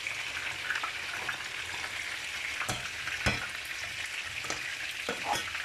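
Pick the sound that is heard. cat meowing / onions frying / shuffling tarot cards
onions frying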